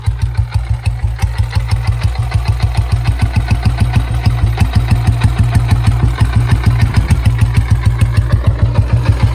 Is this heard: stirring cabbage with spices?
no